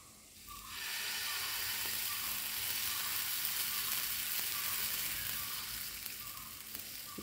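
Oats dosa batter poured onto a hot pan greased with ghee sizzles and crackles steadily at close range, a continuous bright frying hiss that swells after the pour and holds, with no talking.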